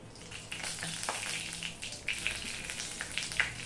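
Panch phoron spices and a bay leaf frying in oil make a lively crackling sizzle, with scattered sharp pops and light stirring scrapes over a continuous hiss.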